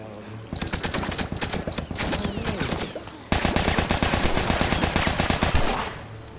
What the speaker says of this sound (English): Shooting at my people.